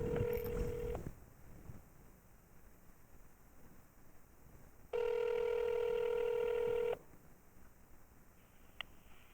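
A telephone line sounds a short tone, then after a quiet gap a long steady ring tone plays for about two seconds, clear and close, with faint ticks around it.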